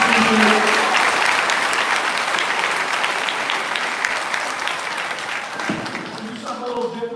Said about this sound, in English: I want you guys to give a great round of applause for working through that.